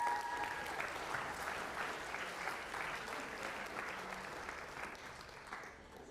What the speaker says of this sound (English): can I get a round of applause for Li Xing Chang?